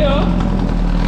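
A homemade engine made from a Volkswagen Gol CHT motor idles with a short stub of exhaust, a steady low drone through the whole short moment, while a voice speaks over it.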